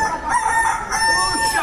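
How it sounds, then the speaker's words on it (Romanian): A rooster crows once up close and loud, a single drawn-out cock-a-doodle-doo filling most of the moment on a farm. "Ați văzut un cocoș?"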